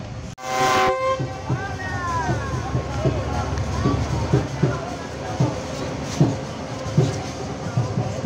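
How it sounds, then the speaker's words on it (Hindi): Bahauddin Zakria Express pulling away behind GU 40 locomotive 9012, a brief loud horn blast opening over rumbling rail noise and rhythmic wheel clatter, with someone speaking throughout. "बहुत ज़बरदस्त पिकअप हुई है 9012 GU 40 लीड कर रहा है 26 डाउन बहाउद्दीन ज़िक्रिया एक्सप्रेस को"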